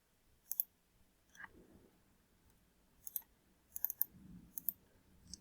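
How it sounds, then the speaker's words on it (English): Computer mouse clicking through ArcGIS Pro, faint sharp single clicks scattered irregularly, with a few quick double clicks near the end, in an otherwise quiet room. "So I just clicked on the folder."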